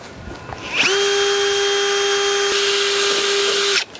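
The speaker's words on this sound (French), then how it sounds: "je perce le U de faîtage avec un diamètre de mèche légèrement supérieur à celui de la vis" Power drill boring through a metal ridge U-profile for a garden shed roof with a bit slightly wider than the screw, one sustained high whining run of about three seconds, close and loud, stopping abruptly.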